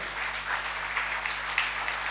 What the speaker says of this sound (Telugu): గట్టిగా చప్పట్లు కొట్టేసారి దేవుని కనపడతామా?